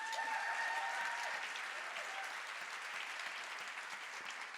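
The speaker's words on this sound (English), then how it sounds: "I'm going to go ahead and ask you to give her a round of applause." An audience at a fashion talk applauds a designer, steady dense clapping that fills the room from start to finish, loud and sustained, slowly tapering slightly.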